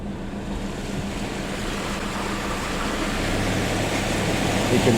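Shallow water of the Pascoe River on Cape York rushes steadily, a broad, constant roar of flowing water that grows slightly louder toward the end, heard without any talking.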